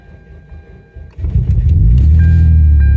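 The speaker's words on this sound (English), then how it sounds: "let's see if this wonderful vehicle starts with that battery pack on there" A car engine cranks on a jump starter battery pack and catches after a quiet moment on a cold day, settling into a loud, steady idle rumble.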